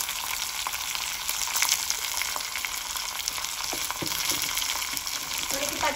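Dried red chillies, coarsely crushed garlic and curry leaves fry in hot oil, giving a steady, close sizzle with faint crackles and pops throughout.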